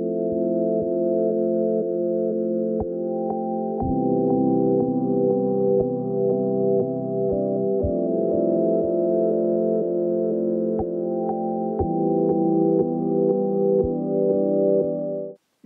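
Old School Roads chords in Ableton Live 10, a sustained synth pad whose tone slowly sweeps as an automated auto filter moves, with soft rhythmic clicks underneath, steady and alone without talk.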